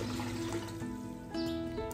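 Water pouring into a large 15-litre pot, ten litres for Christmas fruit punch, a continuous splashing rush with a brief shift partway through, close and fairly loud, with no talk.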